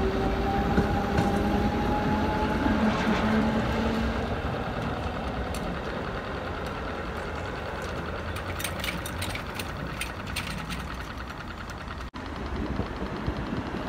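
An Amsterdam line 5 tram pulls away from a city stop, its rumbling wheels and motor whine rising and then fading. Steady rail clatter follows, with faint higher squeals toward the end and no voices.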